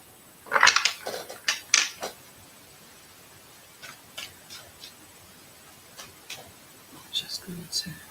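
Tarot cards being shuffled come as soft papery riffles and taps in short bursts with quiet pauses between, close but faint.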